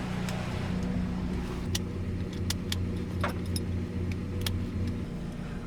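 A Mazda Miata with a swapped-in GM EcoTec engine and a newly repaired exhaust leak idles with a steady low rumble while keys jingle nearby.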